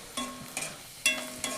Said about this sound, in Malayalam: നന്നായി വെളുത്തുള്ളി, ഇഞ്ചി പച്ചമുളക് വേപ്പില വഴറ്റുക